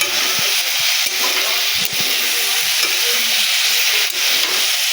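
Boiled potatoes frying and being stirred in a pan for a masala dish, with a steady close sizzle and intermittent scraping and knocking of the spoon, no talk.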